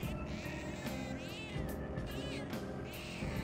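Repeated cartoonish cat meows from the Persona 5 Royal video game, triggered over and over by a button press, sounding close and fairly loud over steady game music.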